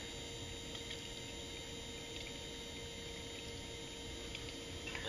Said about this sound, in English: Water's coming through.